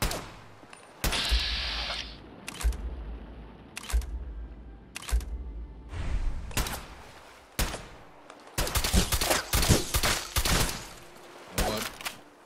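Fallout 4 gunfire comes in separate sharp shots early on, then a dense rapid burst of firing near the end. The shots are fairly close and stand alone against quiet background noise, with no one talking.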